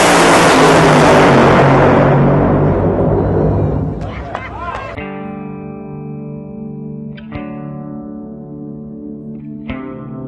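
A funny car drag racing run makes a loud, distorted engine roar for about four seconds, then it cuts off and leaves a few sharp bangs and ringing tones.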